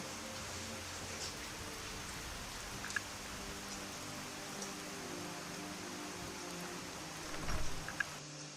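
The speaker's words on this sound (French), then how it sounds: "ça pleut!" Steady rain pours down in the video game Skyrim, a continuous hiss of falling drops with a few faint taps and a soft low rumble near the end, no voices.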